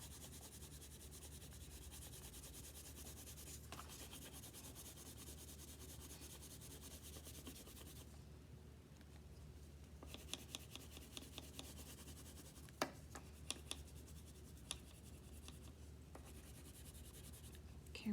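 Crayon or colored pencil rubbing steadily on paper while filling in a blue sky around drawn clouds and a sun, a continuous close scratchy shading sound with a few small taps and strokes, no talking.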